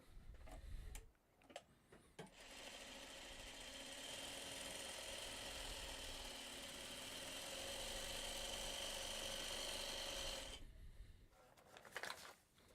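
A sewing machine stitches fabric in a steady, quiet whir lasting about eight seconds, with soft handling clicks before and after.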